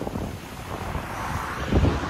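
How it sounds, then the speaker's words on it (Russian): Strong wind buffets the microphone by the rough Black Sea at Sochi, a steady broadband roar with waves surging underneath and a louder gust near the end; no voices. "Море волнуется, дует сильный ветер."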